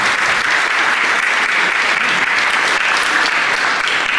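Audience applause at a Miss Skarżyska-Kamienna 2019 beauty gala, steady dense clapping from a large crowd sustained loudly throughout without pause.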